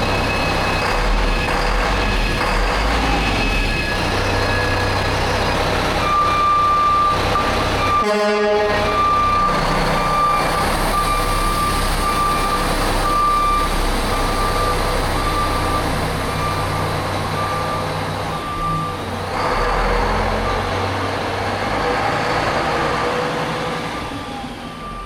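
A repaired Mack truck with a newly smoothed clutch drives off, its engine a steady loud rumble throughout, with a repeating reversing beep and a sustained horn-like tone in the middle.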